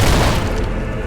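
A mortar explodes in the video game Fable 3 during a castle assault, a single loud, close boom with a heavy low-end rumble that decays over about a second.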